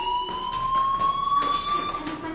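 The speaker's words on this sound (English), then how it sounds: "do you hear that fire alarm? That means you should be outside." A fire alarm rings in the video game Life is Strange, a steady electronic tone with high harmonics that sounds continuously and fairly loud throughout, with faint background noise under it.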